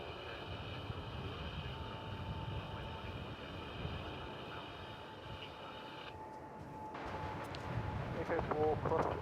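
Qantas airliner from Melbourne after a 15-hour flight at DFW Airport, a steady, distant jet engine roar with a sustained whine that shifts partway through, heard under faint talk.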